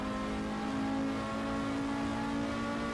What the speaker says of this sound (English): It doesn't seem to like you to shift very quick into 5th gear.